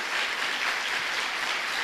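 A church congregation claps together in praise, a dense, even burst of applause with no voices over it.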